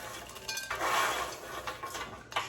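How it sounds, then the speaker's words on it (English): Crisp rustling and light clattering of dried gluten-free bread cubes being handled and poured, a short soft crunchy burst heard alone. "you want 12 ounces of the gluten-free cubes, which you can hear they're"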